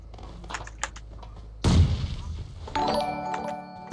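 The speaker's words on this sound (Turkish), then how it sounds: "Bomba attı." A single heavy grenade blast in PUBG Mobile hits suddenly after quiet chatter, with its boom trailing off into clatter and game sounds.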